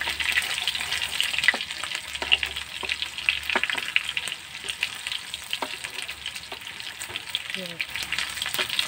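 Mung bean stew (ginisang monggo) being stirred in a pan, a steady sizzle under occasional clinks and scrapes of the spoon, fairly close and moderately loud with no talk.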